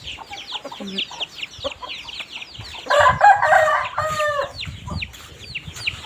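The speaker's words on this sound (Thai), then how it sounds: "ไก่แดงนะคะ" A red rooster among other chickens crows loudly and close, one drawn-out cock-a-doodle-doo rising over scattered clucks and chirps from the flock.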